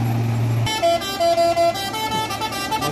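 An orange Fuso truck sounds its horn on a narrow road, a loud, close, sustained blast followed by several shorter honks over the idling engine and traffic.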